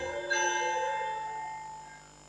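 A temple bell at Wat Mon Ruesi monastery in Doi Lo, Chiang Mai, is struck once and rings out in a clear sustained tone that slowly fades over about two seconds.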